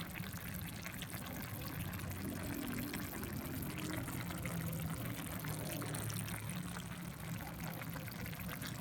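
A tagine simmers over an open fire at a beach shack, giving a steady close bubbling and sizzling wash that runs unbroken throughout.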